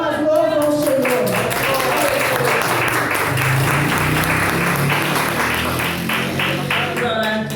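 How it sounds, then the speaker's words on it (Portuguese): A church congregation claps in praise to the Lord, a dense, sustained burst of applause with voices mixed in, continuing steadily throughout. "e as palmas louvam o Senhor."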